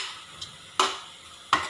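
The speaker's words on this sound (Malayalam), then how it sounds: "നന്നായി ഒന്ന് മിക്സ് ചെയ്തെടുക്കണം" Chopped nettle leaves being stirred in a pan for a thoran, with three sharp scraping strokes of a spoon against the pan over a soft background hiss, close and clear with no talk.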